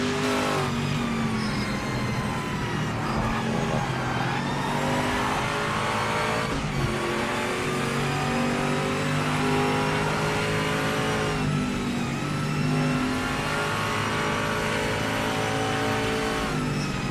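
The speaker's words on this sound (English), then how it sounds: "So authentic. The sound of this car." A race car engine roars continuously at high revs in the racing game Project Motor Racing, GT Icons DLC, with gear shifts and surges in pitch, loud and close throughout.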